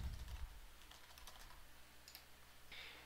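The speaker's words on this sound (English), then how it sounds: "Type in some text." Someone types on a computer keyboard, soft scattered keystrokes at close range, fairly quiet, with a few brighter clicks near the end and no talking.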